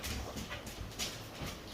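A pet dog whimpers indoors on a rainy day, soft high whines repeating close by over a low room hum.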